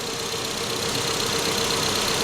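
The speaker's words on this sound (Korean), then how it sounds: "자 엔진 한번 들어보시죠" A used economy car's engine runs at a steady idle, close and continuous with a faint even knocking texture and no talking.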